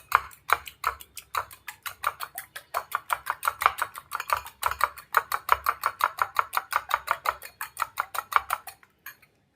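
A whisk beats egg and milk together in a bowl, a fast, even run of bright clinking strokes against the sides lasting several seconds before stopping, close and alone.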